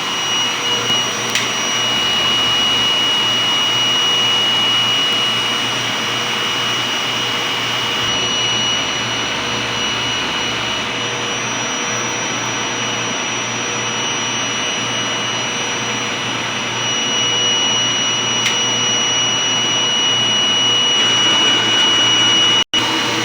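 DTF printer running a print head clean cycle, a loud continuous whirring pump-and-fan drone holding steady for over twenty seconds with faint high tonal whines and no talk.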